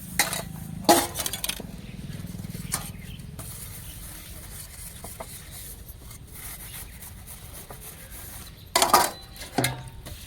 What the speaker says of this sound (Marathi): आणि स्वयंपाकाचीच भांडी मी घासते